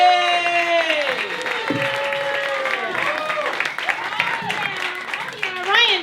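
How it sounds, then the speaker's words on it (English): A comedy club audience applauds as a comedian takes the stage, steady clapping and some cheering running continuously under a loud, tonal voice or music that glides and rises over the top. "Thank you for that applause"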